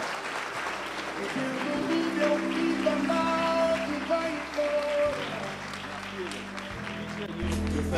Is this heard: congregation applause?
yes